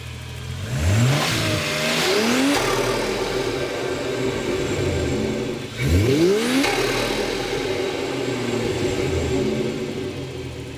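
A turbo-converted Holden VL car revs twice, each time a loud rising engine roar that climbs sharply and then falls back to a rumbling idle, heard close by with no talk.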